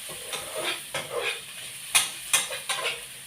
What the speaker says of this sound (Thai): ผัดไฟอ่อนๆนะครับพี่น้องครับ